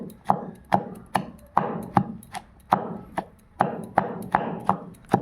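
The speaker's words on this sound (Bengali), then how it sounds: "এখন টমেটো কুচি দেওয়া হয়ে যাচ্ছে।" Tomatoes are chopped by knife on a board in a steady rhythm of crisp, close thuds, roughly a dozen strikes over a few seconds, with no voices.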